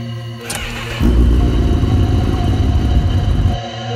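A superbike revs up sharply and roars along at speed, its loud, raspy engine note holding steady for several seconds before cutting back to a quieter idle-like hum.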